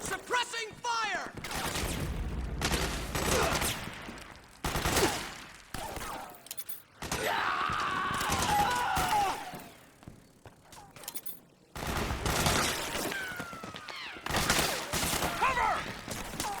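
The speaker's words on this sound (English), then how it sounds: "Suppressing fire!" Suppressing gunfire rattles through a Metal Gear Solid 4 video game battle, with rapid bursts and volleys coming in repeated loud waves, mixed with shouted voices and scattered mechanical clatter.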